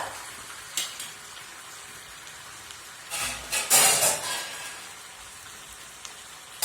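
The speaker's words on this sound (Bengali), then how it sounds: "ভালো করে চিকেনটা নেড়ে নিয়ে তারপরে আমি 10 মিনিটের মতো মিডিয়াম আঁচে চাপা দিয়ে রান্না হতে দেবো" Chicken sizzles and crackles in a frying pan as it is stirred, a soft steady fry with a few louder scraping bursts in the middle, and no voices.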